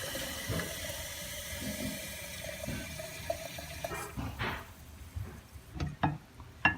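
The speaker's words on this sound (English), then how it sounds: "the last step is to fill it up to that 16 mark with room temperature water" Room-temperature water poured into an enema bag, a gurgling trickle and splash with uneven bursts, followed by a few short plastic clicks and handling knocks near the end.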